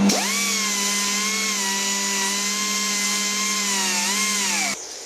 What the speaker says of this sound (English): I want to achieve a nice square edge down there